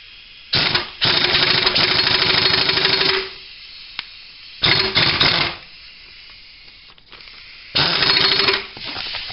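Impact wrench with a different socket trying to break loose the rotor on a Kawasaki KZ1100 starter clutch, firing three loud rattling bursts of a few seconds each with quiet gaps between them.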